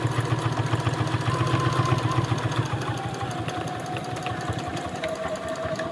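A sewing machine stitches along the edge of a zipper pouch with a waterproof lining, giving a close, steady, rapid whirring hum of needle strokes that shifts slightly in pitch partway through, with no talking.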